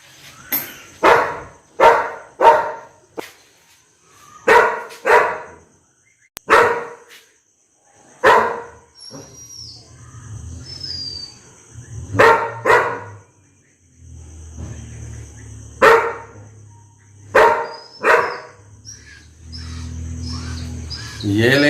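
A dog barks repeatedly in loud, spaced single barks and short pairs, near and clear, with birds chirping faintly in the background during quieter stretches.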